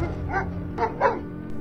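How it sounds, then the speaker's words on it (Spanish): Dogs let out a few short barks and yips as an audio-drama sound effect, three uneven bursts close together over a steady low hum, moderately loud and without speech. "los perros empezaron a ladrar con furia"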